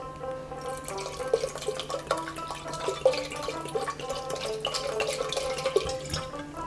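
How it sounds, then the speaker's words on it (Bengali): Water is poured into yogurt in a kitchen for a traditional Bengali ghol drink, a steady close trickle with splashing drips and small irregular clinks throughout. "যেহেতু 3 কাপ দই নিয়েছি, তার জন্য আমি 5 কাপ জল মেশাবো।"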